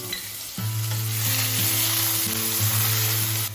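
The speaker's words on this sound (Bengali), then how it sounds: "আদাটা একটু ভেজে নিয়ে চিড়ে রাখা কাঁচা লঙ্কাটাও অ্যাড করে দিলাম" Grated ginger sizzles loudly in hot mustard oil in a pan, with a steady close crackling fry that jumps up sharply as the ginger goes in.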